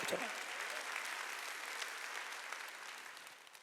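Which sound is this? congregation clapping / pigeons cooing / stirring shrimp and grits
congregation clapping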